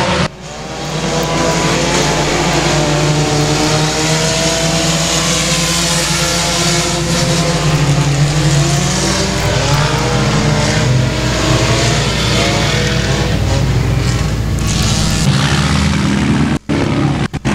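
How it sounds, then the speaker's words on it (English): Race cars leave the track at Boothill Speedway after an evening race, their engines roaring loud and continuous at close range before the sound cuts sharply near the end. "We'll wait till all the cars exit, please."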